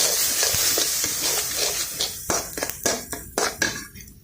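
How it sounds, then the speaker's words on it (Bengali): Dried fish (shutki) frying on a stove, with a steady sizzle and repeated clinks and scrapes of a utensil stirring in the pan, close and moderately loud. "শুটকি ভাজা দিতেছি"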